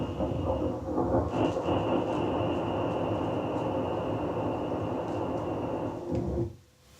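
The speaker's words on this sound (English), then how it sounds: "thunder sound." Thunder sample triggered from a drum rack on an Ableton Push controller: a loud, continuous rumbling roll with a faint high tone over it, cutting off sharply near the end.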